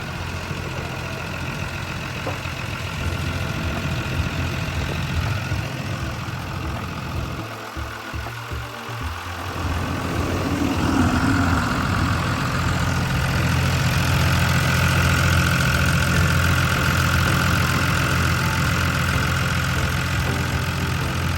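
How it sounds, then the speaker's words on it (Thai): An Isuzu 6BD1 diesel engine on a Sakai TS200 road roller idles with a steady low rumble, briefly dipping before settling into a slightly louder, even chug. "ตัวนี้เนี่ยเขาจะใช้งานเป็นเครื่องยนต์อิซูซุ 6 BD1 นะครับ"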